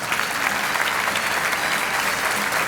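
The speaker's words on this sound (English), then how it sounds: "Give them a round of applause." Loud, dense clapping from a breakfast event crowd as a ballroom dance couple is introduced, a continuous even wash of many hands close by.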